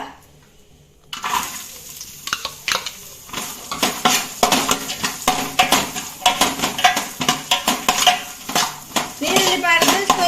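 Onion frying in a pan for a Tulu egg gravy, a busy sizzle with repeated metallic scraping and stirring clatter after a brief quiet start, close and fairly loud throughout.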